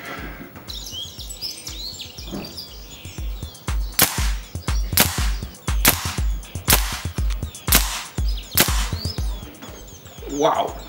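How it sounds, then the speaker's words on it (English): An air rifle firing 15 grain pellets outdoors, heard as a series of sharp, close cracks at a fairly regular pace over birdsong, with occasional talk. "only one way to find out is to shoot them"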